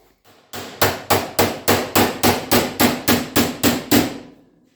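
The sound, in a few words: hammering over steel door skin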